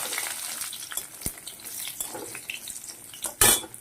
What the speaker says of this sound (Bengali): তেল দিয়ে দেব বড়িগুলা ভাজার জন্য।